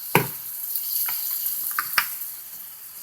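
Roux frying in a big gumbo pot: a steady bright hiss of sizzling oil and flour, with a few sharp metallic clinks and scrapes from stirring, close and moderate in level.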